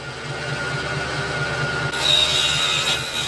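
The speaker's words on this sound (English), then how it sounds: "The sawing of the fine strips of spindlewood is called stringing." Fine strips of spindlewood are sawn for cabinetmaking stringing, a steady close mechanical whine that turns harsher and higher-pitched partway through, with no voices.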